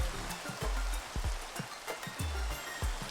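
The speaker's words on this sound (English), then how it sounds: "It's raining and snowing." Rain falling in Minecraft with the Pixelmon mod, a steady hiss of rainfall with low patter, with no talking over it.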